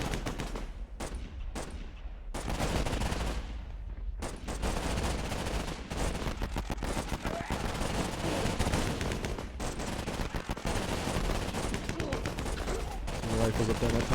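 Rifle gunfire in a WW1 video game: rapid cracking shots and volleys burst in dense, overlapping clusters, loud and nearly continuous, with brief lulls between bursts.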